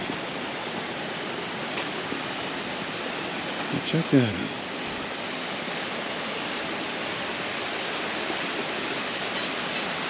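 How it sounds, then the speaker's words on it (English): Steady broadband rush of a river running through a park area, moderately near and continuous, with someone briefly talking over it partway through. "We got our river running through here"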